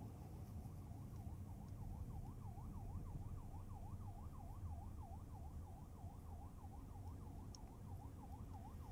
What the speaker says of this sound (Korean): 좌측에 앰뷸런스가 나타났어요.